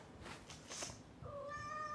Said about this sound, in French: Il y a un chat roux.